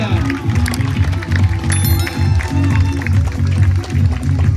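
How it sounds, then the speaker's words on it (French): A crowd at a flying trapeze show applauds and cheers a trapeze artist. Loud, continuous clapping rolls on under a low musical drone, with occasional brighter shouts rising above it. "On peut les applaudir toutes et tous, mais s'il vous plaît, avant, chaleureusement, du bruit pour Emma Clavel"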